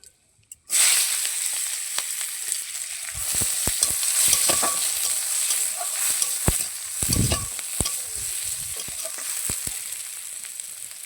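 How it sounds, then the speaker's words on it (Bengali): Chopped onions fry in hot oil with dried red chillies, a continuous close, loud sizzle broken by scraping stirs of a spatula against the pan, with no talking. "পেঁয়াজ দিয়ে দিয়েছি টমেটো দিয়ে দেবো"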